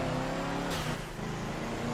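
A car engine in the Midnight Club 3: DUB Edition Remix racing game drones loud and steady, with a brief shift in pitch partway through as it revs, under continuous road and engine noise with no speech.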